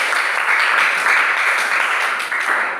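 A middle-school classroom applauding after a group presentation: a dense, steady burst of many hands clapping together for a few seconds, close and fairly loud, fading slightly near the end.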